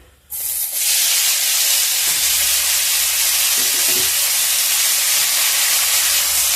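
Grated raw mango hits hot oil already fried with panch phoron and red chilli, setting off a sudden loud, steady hissing sizzle that holds at full strength throughout, with no talking.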